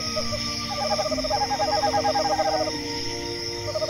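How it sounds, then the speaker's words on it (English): A bonded pair of owls hoots back and forth in a duet, each giving soft, rhythmic series of low hoots that overlap, with a steady chorus of crickets and night insects buzzing behind them. "A bonded pair of owls will often engage in a romantic duet"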